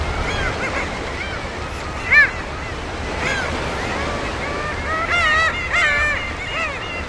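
A colony of black-tailed gulls squawk and call over steady wind and surf, with the calls scattered near and far across a noisy outdoor colony.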